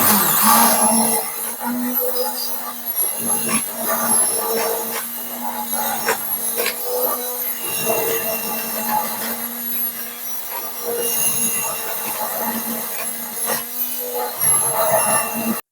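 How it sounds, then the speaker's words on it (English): Stick blender whirring steadily through chicken gravy in a home kitchen, a loud continuous motor drone that dips briefly in a few spots as it is moved through the sauce. "So I'll be using my stick blender to purify this a little bit more smoother."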